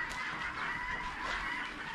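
Chickens in an enclosure at Azwair Family Park in Qatar, giving short clucks under a continuous bed of mixed fowl calls and background hum.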